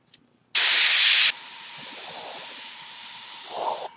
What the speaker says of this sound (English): I'm going to spray this lighter color over here